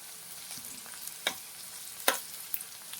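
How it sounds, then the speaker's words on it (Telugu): Ginger garlic paste frying with onions for a small fish curry, a faint sizzle broken by a few crisp clicks of a spoon stirring the pan. "అల్లం వెల్లుల్లి పేస్ట్ వేద్దాం."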